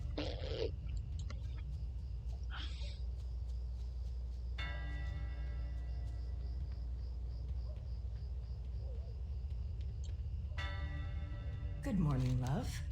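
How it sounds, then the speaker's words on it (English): Town bells in Lakeshire, World of Warcraft, ring out in repeated tolling strikes with long sustained overtones, steady and fairly close beneath a constant low ambient rumble, with a sliding tone near the end. "The bells are ringing, what's going on?"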